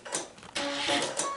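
Sewing machine stitching quilt block pieces, a short whirring run with a fast mechanical stitching rhythm, close and moderately loud, preceded by a brief softer burst.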